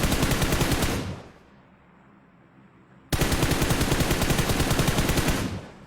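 Automatic gunfire in the mobile game PUBG Mobile sounds as a loud, rapid burst, then a pause of lingering noise, and then a second long sustained burst of shots, with no talking over it.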